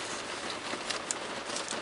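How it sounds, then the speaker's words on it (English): Steady rain falls in a soft, even hiss with light patter of drops, moderately close and continuous, with no talking. "And it's starting to rain harder."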